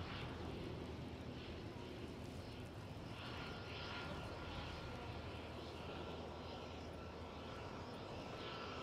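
A de Havilland DHC-3 Otter floatplane engine at Vancouver Harbour, a faint, distant, continuous propeller drone that holds steady throughout.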